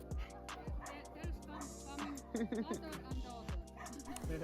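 Huskies bark and yip in a rapid irregular string of sharp calls, with whining high yelps between the barks, several dogs close by amid a noisy outdoor setting in Santa Claus Village.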